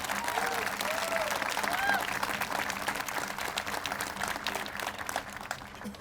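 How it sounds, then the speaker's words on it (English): An audience claps in a sustained, even round of applause at a grand opening and ribbon-cutting ceremony for the new Clackamas County Courthouse, with a voice faintly heard over it. "Please give her a round of applause."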